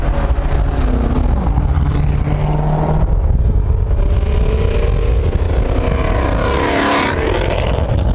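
A sports car, either a C7 Corvette or a 370z, roars loudly at close range on a street, engine revving steadily with rising and falling pitch and a dense rumble throughout.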